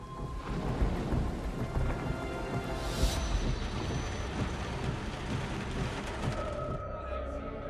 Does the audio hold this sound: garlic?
no